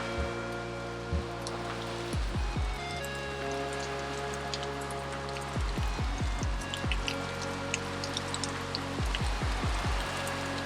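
Heavy rain mixed with hail falls outdoors as a dense, steady patter and hiss. Occasional low thumps and clunks come through while a Suzuki JR80 pit bike inner tube is being changed.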